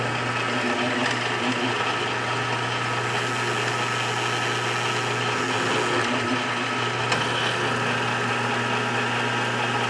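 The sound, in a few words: drill boring holes in metal for leather stamps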